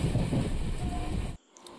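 A Konkan Railway train runs near Byndoor on the coast between Goa and Mangalore, producing a loud, steady rumble with wind roar. The noise stops abruptly and leaves near silence with a few faint high tones.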